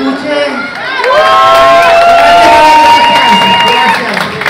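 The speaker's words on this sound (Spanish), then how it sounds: "Pero estos aplausos que se escuchen." A large crowd at a lucha libre wrestling show cheers, shouts and whoops loudly and continuously, with high voices rising above the roar and some clapping mixed in.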